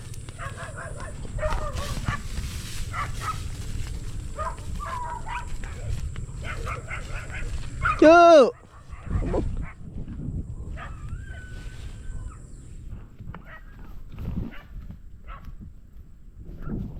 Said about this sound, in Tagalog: May aso ata.